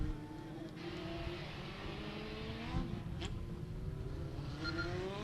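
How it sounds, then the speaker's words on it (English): A race car, the D11, runs down the front straightaway at Beckley Motor Speedway during hot laps, its engine a steady distant roar with shifting pitch across the whole stretch. "First car around here on the front straightaway is going to be the D11."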